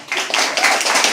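Audience clapping at a poetry open mic, a short burst of dense, steady applause from a small crowd in a room, fairly loud and close.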